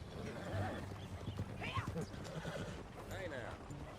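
A horse in the Red Dead Redemption 2 video game neighs in a few shrill whinnies, with hoof clip-clops beneath and game-character talk mixed in around them.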